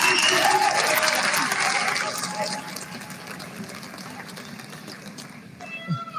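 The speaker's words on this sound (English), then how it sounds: "let's do one more round of applause for the class of 2023" A crowd at a high school commencement ceremony claps loudly at first, then the applause thins and fades to scattered clapping and background noise.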